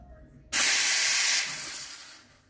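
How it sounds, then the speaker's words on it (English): An ECM Synchronika espresso machine steam wand gives a loud, steady hiss that starts abruptly, holds strong for about a second, then tapers off gradually without cutting off cleanly. "So it kind of keeps steaming."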